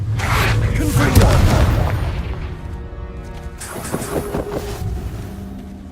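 A Confringo spell goes off in Hogwarts Legacy, a loud booming blast with a crashing burst near the start that rumbles and fades, followed by further lighter impacts in the game.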